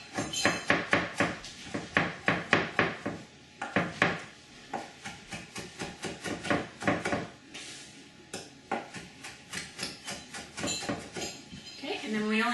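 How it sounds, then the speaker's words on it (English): A knife chops avocado bowl filling on a cutting board in quick, sharp, rhythmic knocks, close and loud, with brief pauses and a voice talking between runs of cuts. "I'm just going to pull this off the center of my cutting board and just chop it"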